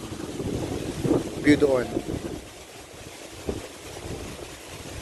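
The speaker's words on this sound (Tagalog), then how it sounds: "sobrang lakas ng hangin" Strong wind buffets the microphone at a high outdoor viewpoint, gusty roaring rumble with a brief voice speaking over it.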